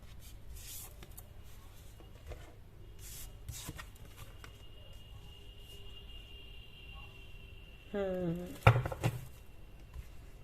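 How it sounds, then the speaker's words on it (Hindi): Tarot cards being shuffled make soft, scattered riffling and brushing sounds with a few sharp snaps. A quick fluttering burst near the end is the loudest part, all close and fairly quiet. "मैं सारे कार्ड्स ना शफल करूंगी एक साथ ही यहाँ पर"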